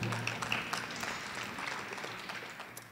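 Audience clapping at a public assembly on the Green New Deal, a steady, fairly quiet patter of many hands lasting a few seconds with no voices over it.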